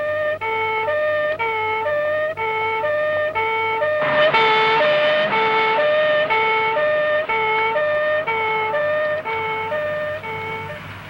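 Ambulance siren wailing in a repeating two-tone pattern, loud and close, with a sharper noisy burst around the middle as the vehicle seems to pass, continuing steadily to the end without speech.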